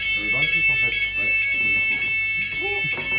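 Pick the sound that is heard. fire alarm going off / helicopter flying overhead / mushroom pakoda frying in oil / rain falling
fire alarm going off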